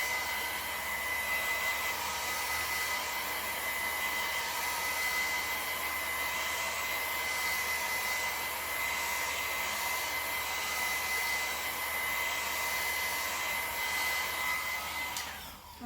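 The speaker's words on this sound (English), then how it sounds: "just a hair dryer. And I'm just going to do it on low heat, just to dry the work that I've done already." A hair dryer on low heat drying craft work gives off a steady, close whir that holds unbroken for the whole stretch, with no voices over it.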